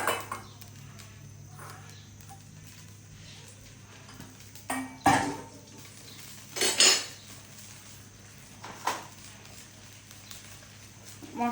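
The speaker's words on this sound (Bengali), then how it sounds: "মশলা দিয়ে মশলাটা কষাবো।" Dried boneless fish and spices being stirred in a metal pan with a spoon, giving scattered clinks and scrapes of utensil on metal, a few sharper knocks standing out against low background hum and no steady sizzle.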